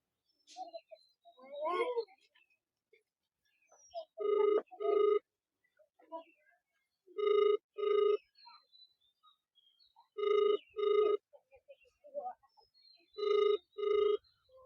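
A telephone ringback tone sounds as an outgoing call rings unanswered, with clear double rings repeating at steady intervals. A few brief murmured words come between them in an otherwise quiet room.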